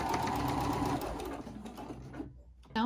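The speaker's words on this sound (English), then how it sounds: "I'm gonna go back to the machine and we're gonna baste the stitches along the bottom." A sewing machine runs basting stitches close by, a loud steady mechanical whirring hum that slows and winds down after about two seconds, then briefly starts again at the very end.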